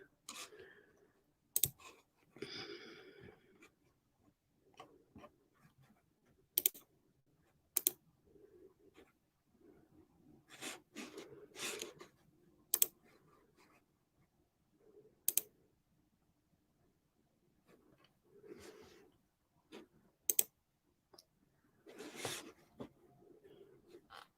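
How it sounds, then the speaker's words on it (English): A computer mouse clicks in scattered sharp bursts, sometimes single and sometimes in quick pairs, fairly close, with long quiet gaps between them and no speech. "You guys are going to hear my clicking noises because I didn't put it on mute."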